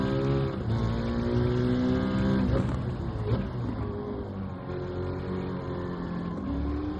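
A car engine drones in Gran Turismo 7 while driving on track, a steady revving tone that shifts pitch as it accelerates and eases off, continuous and fairly loud with no talk.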